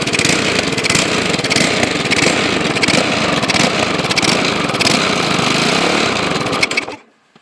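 2010 Briggs lawnmower engine with an overactive governor, running loud and close with a rhythmic rising-and-falling surge, then cutting off abruptly near the end.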